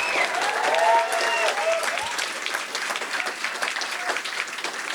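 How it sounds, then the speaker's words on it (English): An audience breaks into warm, sustained applause for Chancellor Zero Skidmore at a Baton Rouge Gallery commemoration event, with a few voices calling out over the clapping early on before it settles into a steady roar. "a big round of applause for Chancellor Zero Skidmore"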